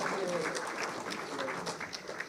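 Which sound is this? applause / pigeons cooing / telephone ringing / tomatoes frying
applause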